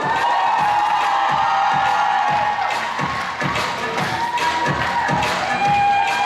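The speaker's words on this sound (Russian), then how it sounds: "Аплодисменты, друзья!" A gala concert crowd applauds and cheers for an award announcement, with loud sustained clapping, whoops and shouts forming a dense, continuous roar throughout.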